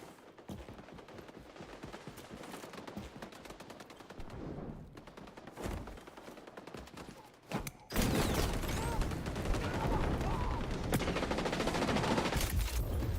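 Rapid P90 submachine gun fire from the video game XDefiant, shot at long range: dense, continuous bursts that turn louder and fuller halfway through, with no talking over them.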